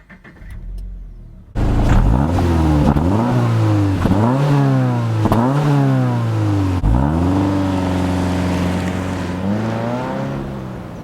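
A 2017 Subaru BRZ sports car engine revs hard and loud, pitch climbing and dropping through several sweeping rises after a brief quiet start, close and continuous.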